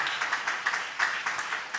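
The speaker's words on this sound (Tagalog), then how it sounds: "Malakas sa palakpak sa ating dakilang Diyos na buhay" A church congregation claps during a worship service, a brief burst of brisk, rhythmic applause from many hands, fairly close and steady.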